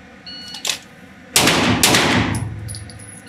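Sig Sauer pistol shots on an outdoor shooting range, a brief faint report followed by a loud close burst of several rapid shots that ring out and fade.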